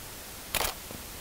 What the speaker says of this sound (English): I'm still shooting it at a shutter speed of 60 and an f-stop of 32.